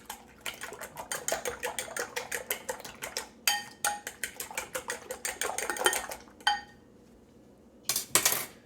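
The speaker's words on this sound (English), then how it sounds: "I'm going to whisk everything nicely." A whisk beats egg muffin batter with rapid, even clinks against the bowl, pausing briefly before a few final strokes; close and fairly quiet, with no talk.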